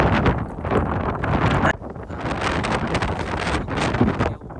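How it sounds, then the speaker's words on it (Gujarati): Strong wind blows outdoors in a village and buffets the microphone in loud, continuous roaring gusts with rustling underneath, and one brief lull partway through. "કદાચ તમને પવનનો અવાજ આવતો હોય"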